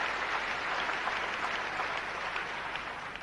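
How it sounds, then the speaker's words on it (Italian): A dense wash of applause from a tennis crowd, steady and sustained throughout, heard from a distance, at a 1986 women's doubles match in Zurich. "uno scambio però che raccoglie doverosamente gli applausi del pubblico."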